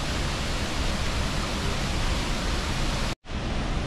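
Steady, dense roar of rushing water, broadband and continuous, with a brief near-silent dropout just before the end.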